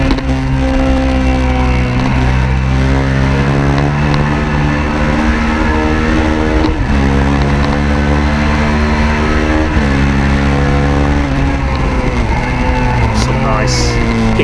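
Minitwin racing motorcycle engine at heavy throttle on a circuit at Oulton Park, droning loud and steady with rising and falling pitch sweeps through gear changes across the whole stretch.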